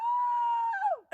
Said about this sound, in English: Scream at the top of your lungs.